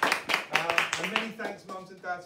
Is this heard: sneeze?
no